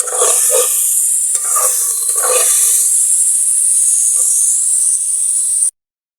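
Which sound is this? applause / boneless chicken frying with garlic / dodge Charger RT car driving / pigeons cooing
boneless chicken frying with garlic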